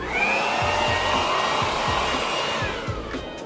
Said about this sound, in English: I yanked out this leaf blower just to get all the loose dust up and to the back so I could vacuum it out